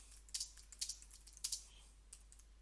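Keys on a computer keyboard tapped in a few quick bursts, with short gaps between clusters of clicks, close up and fairly quiet with no talking.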